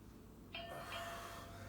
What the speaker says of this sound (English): It's 5-second bell.